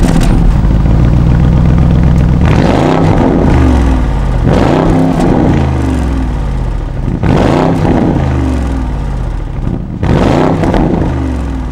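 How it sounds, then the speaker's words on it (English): The valved V8 sports exhaust of a 2021 Porsche Cayenne GTS Coupe revs hard four times, each blip rising sharply then falling back to a rumbling idle, loud and close. "So here we have the normal sports exhaust system. It's valved, it sounds brilliant."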